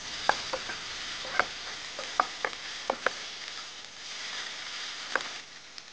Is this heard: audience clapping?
no